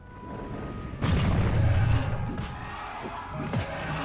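A flashbang grenade bursts in Nightmare Creatures with a sudden deep boom that rumbles for about a second, followed by fainter crackling and a few smaller thuds.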